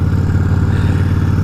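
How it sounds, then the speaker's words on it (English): A Yamaha VMAX motorcycle engine rumbles steadily and loudly at close range, a deep, throbbing exhaust note that stays constant with no voices over it. "JD with his VMAX beast"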